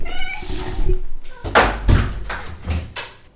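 A house cat meows several times, short and fairly loud, close by in a room where a piano lesson is going on. There are some bumps and a door-like knock, and a person speaks briefly.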